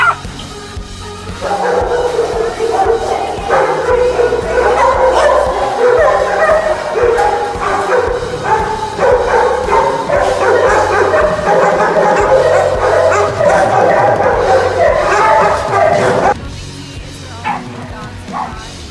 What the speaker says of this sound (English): kennel C is where they keep the biggest dogs and the loudest dogs